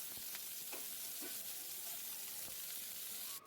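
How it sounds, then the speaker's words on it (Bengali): Onion sizzles in hot oil in a pan, half-fried with green chillies for a Bengali rui posto fish curry. The frying hiss is steady and close, with light stirring clicks and no voices. "প্রথমে আমি পেঁয়াজটাকে আধ ভাজা মতো করে নিলাম"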